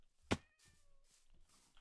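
A cat meows once, short and fairly clear, in Minecraft Bedrock Edition, followed by quiet game ambience with no talk.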